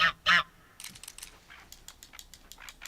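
Tufted ducks calling in a hunting video game: two loud honking calls open, then faint scattered clicks and soft bird noises follow, with no talking.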